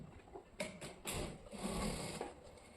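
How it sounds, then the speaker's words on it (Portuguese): Sewing machine stitching cotton fabric with acrylic batting for a flip-flop rug, giving short whirring bursts that run into a steady close-up mechanical hum. "Vou diminuir aqui o ponto da minha máquina."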